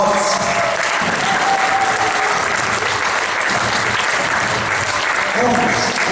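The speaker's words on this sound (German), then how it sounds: "Herzlichen Applaus!" A handball crowd welcomes the Special teams from Vorarlberg and Vienna with loud, sustained applause, and people call out over the clapping.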